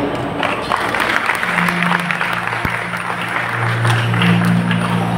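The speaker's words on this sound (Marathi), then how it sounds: "आणि खरंच मनापासून या कलेवरती प्रेम करत असाल सगळ्यांच्या टाळ्या होऊ दे" An audience claps for Shahir folk performers at a Shakti Tura music show in a hall, a loud, dense and steady applause continuing throughout.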